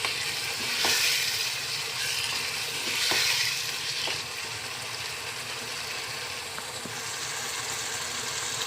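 Shalgam and methi sabzi of turnip and fenugreek leaves frying in oil in a pan, giving a steady close sizzle and crackle. A few brief stirring scrapes come and go, with no talking.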